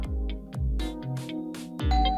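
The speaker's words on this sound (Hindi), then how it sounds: "जिंदगी में पहली बार इतना मजा आ रहा है डोरबेल बजने से।" A doorbell rings over and over in quick succession, bright two-tone chimes overlapping loudly with no voices.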